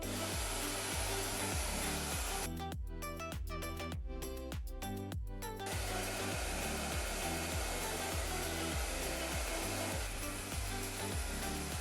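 A hair dryer blowing steadily on its cool shot setting while drying textured hair, a loud, close, continuous roar with a brief rougher patch in the middle.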